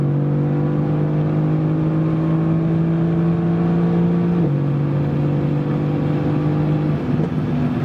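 A 2018 Mercedes-AMG GT R C190 pulls hard from 150 km/h, its engine a steady loud drone inside the cabin with one brief shift partway through, and no one speaking.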